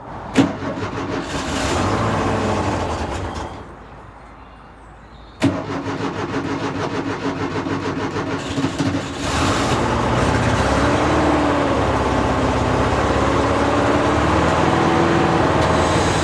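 A camper van engine cranks with a whirring starter, drops away briefly, then catches with a sharp start and settles into a steady, rough idle that continues loudly to the end.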